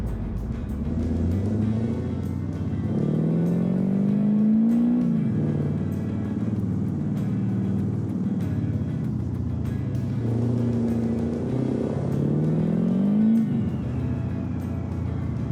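A pickup truck's engine in BeamNG strains to haul a heavy bumper-pull trailer uphill, a steady loud drone with rising revs that climb, drop at gear changes and climb again, no voices over it.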